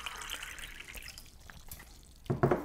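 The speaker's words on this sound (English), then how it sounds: "I gotta get some cold water from the fridge" Cold water pours from a refrigerator dispenser on a hot day, a faint trickle and drip in a quiet kitchen that swells into a louder splashing pour near the end.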